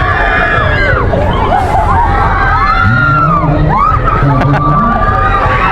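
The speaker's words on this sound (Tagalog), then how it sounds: "Nagihiyawan yung mga estudyante." Students screaming and shouting on an amusement ride at a free Christmas park in Calamba, Laguna: a loud, continuous mass of overlapping yells and crowd babble, with excited voices rising and falling throughout.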